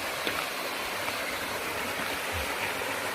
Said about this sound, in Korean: 폭포가 있습니다. 폭포.